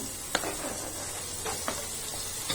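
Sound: quartered tomatoes frying with spices in a pan

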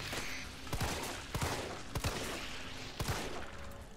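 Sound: gunshots in the video game Resident Evil 3 Remake

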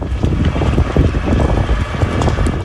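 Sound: strong wind during wildfire

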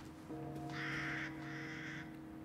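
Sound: crow cawing, Resident Evil Village video game

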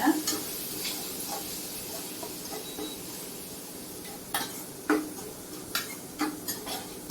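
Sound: tomatoes stirred and sizzling in a frying pan

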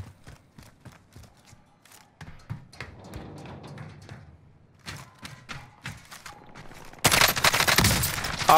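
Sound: gunfire in Warzone, from a video game

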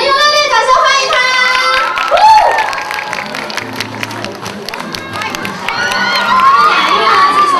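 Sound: audience applauding and cheering a guest's entrance

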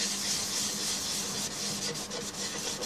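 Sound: rubbing sanding sealer onto larch wood bowl by hand

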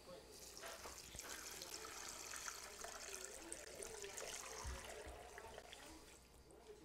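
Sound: water being poured into a pot

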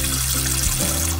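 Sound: tap water running over potatoes to wash off starch

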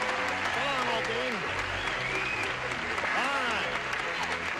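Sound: audience applause

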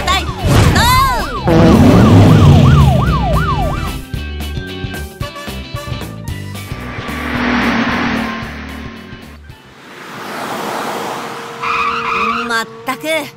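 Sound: sirens of cartoon fire engine, ambulance and police car

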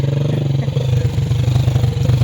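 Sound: motorcycle engine

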